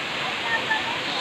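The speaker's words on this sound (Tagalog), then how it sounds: "Waterfall na, waterfall." A waterfall of fast-flowing water roars as a steady, close, broadband rush that holds constant throughout without any break.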